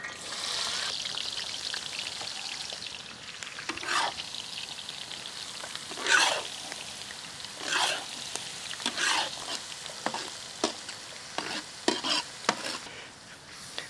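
Thinly sliced onions fry in hot pure ghee, a steady crackling sizzle broken by repeated scraping stirs of a spatula through the pan, close and moderately loud with no voices.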